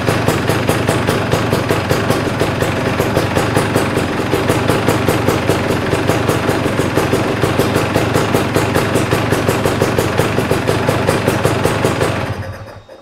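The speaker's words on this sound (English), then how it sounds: "So next I'll try starting the bike and see if that changes." A KTM or Husqvarna motorcycle engine runs steadily at idle with a fast, even pulsing throb, loud and close, then cuts out abruptly near the end.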